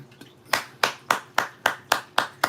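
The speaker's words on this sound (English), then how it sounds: "I'm clapping" A single person claps their hands eight times in a steady, even rhythm, each sharp clap close and distinct with short gaps of quiet between.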